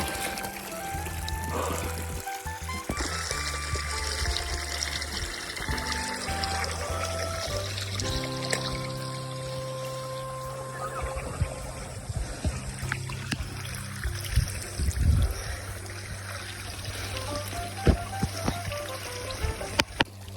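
Water being poured and trickling while fetching water at an outdoor spot near the sea, a continuous gurgling pour with shifting tones as the vessel fills, with a few clinks and faint background sounds.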